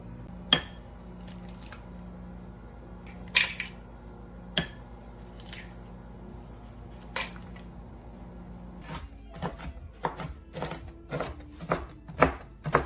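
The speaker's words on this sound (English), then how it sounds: "You can see I'm just rough chopping these pistachio nuts." A knife rough chops pistachio nuts on a board, sparse sharp taps at first, then a quicker irregular run of chops, close and fairly quiet against a low hum.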